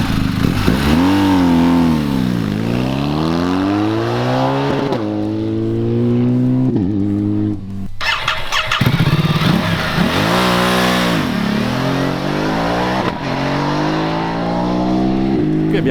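A BMW R 1250 GS Adventure boxer twin and a Ducati Multistrada 1260 Enduro 90-degree Desmo V-twin rev loudly and up close, with repeated rising and falling sweeps that carry on throughout.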